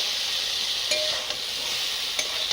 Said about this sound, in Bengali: এদিকে একটু বেগুন ভাজছি